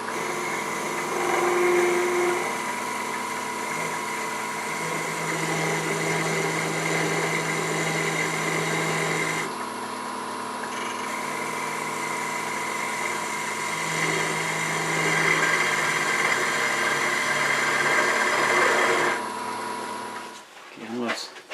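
Wood lathe turning a wobbly Santa figure while a skew chisel makes shearing cuts, a steady mid-pitched whir with faint scraping texture and a brief slowdown near the end, with a voice talking over it.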